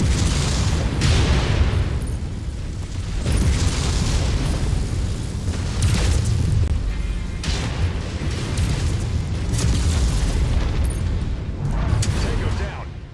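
Missile explosions in Mechwarrior 5 Mercenaries thump and boom repeatedly over a constant low rumble of battle, several heavy bursts spaced a few seconds apart, while voices talk intermittently over the din.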